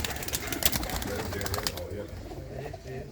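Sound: pigeons cooing in a loft

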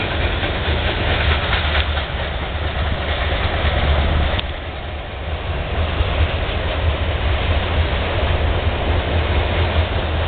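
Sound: loaded freight train with locomotive engines

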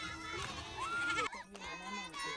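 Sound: goats bleating in a Maasai village

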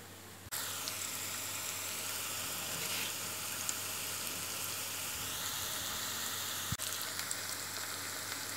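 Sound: onion frying in a pan

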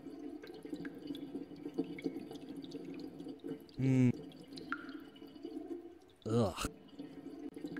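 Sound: dripping water dispenser for urinals, from a video game

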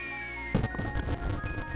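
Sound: mushroom-shaped firework from the video game Super Mario RPG

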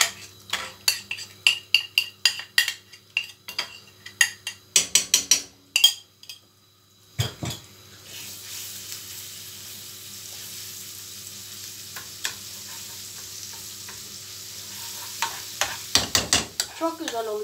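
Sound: stirring flour mixture with a spoon

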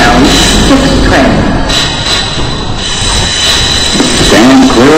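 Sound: New York subway 6 train at station

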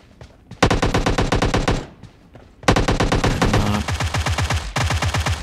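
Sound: gunfire in PUBG Mobile video game

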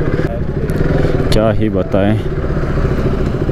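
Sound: motorcycle riding in market traffic

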